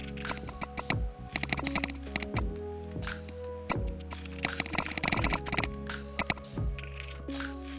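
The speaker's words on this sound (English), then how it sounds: "Let's open up a keyboard tester and test out all the keys." Keys tapped in irregular bursts on a custom Monsgeek M1 mechanical keyboard during a key test, close and clear, with steady clicks and clacks over a faint constant hum.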